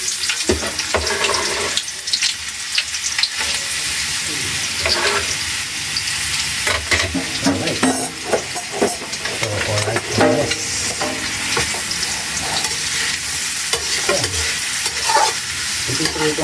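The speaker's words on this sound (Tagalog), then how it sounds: "prito muna natin yung hotdog" Steady loud sizzling of hotdogs frying in a pan, with occasional stirring and scraping sounds over the hiss.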